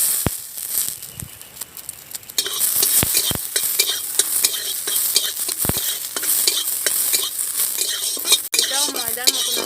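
Soaked cashews and raisins frying in a kadai, a loud steady sizzle broken by repeated scraping stirs and clinks of a metal spoon against the pan, with no talking.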